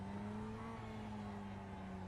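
Mazda MX-5 in a racing simulator game on the Jefferson track, engine note holding a steady harmonic drone as it pulls under power, continuous and moderately quiet with no voices.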